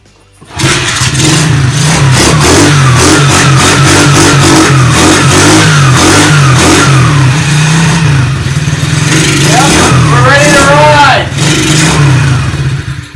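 A TaoTao DB14 110 dirt bike starting up and revving, its small engine close and loud, catching quickly and then rising and falling through repeated throttle blips with a buzzy, sputtering tone.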